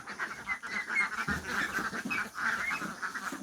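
A flock of ducks, including ducklings about 1.5 months old, quacks continuously nearby, overlapping nasal calls forming a busy, chattering chorus with no pauses.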